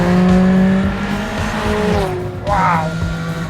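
Lancia Delta S4 Stradale twin-charged car driven hard, a loud engine drone rising and falling through gear changes, with a sharp higher-pitched whine or squeal bursting in near the end, heard from close by.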